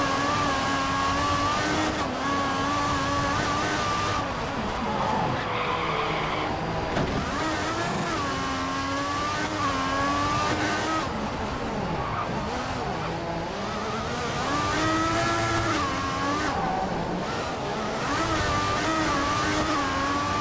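Formula 1 car engines in the F1 2014 racing game at Monaco in wet conditions, a loud continuous high-pitched whine that rises and falls through gear changes, with other cars close by and no talk.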